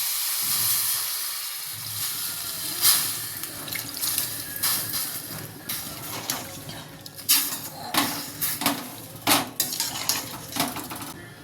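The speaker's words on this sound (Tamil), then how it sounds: "இப்போ தண்ணி தெளிச்சுக்கலாம்." Water splashes into a hot pan of cauliflower with salt and turmeric, with a steady sizzle, and metal utensils clatter and scrape against it in short bursts throughout.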